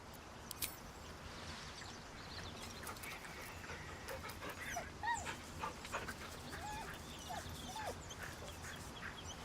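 A dog in the Baldur's Gate 3 video game whimpers and whines in soft repeated yips, fairly faint over a busy hissing background with scattered clicks.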